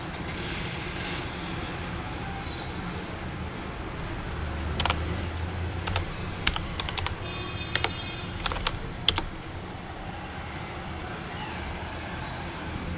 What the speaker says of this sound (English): typing in the username and random text for the password